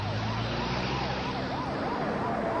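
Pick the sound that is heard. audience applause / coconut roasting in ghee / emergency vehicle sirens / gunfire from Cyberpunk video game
emergency vehicle sirens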